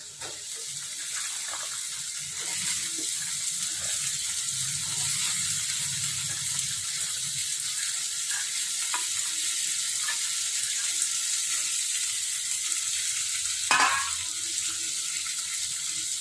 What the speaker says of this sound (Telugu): ఇప్పుడు గోకరకాయ వేస్తున్నా